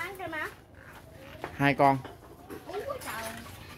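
A dog chasing a cat near a window lets out a couple of sharp, close barks, with people talking around them.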